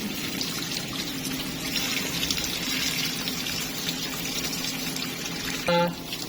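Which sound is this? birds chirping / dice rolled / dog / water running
water running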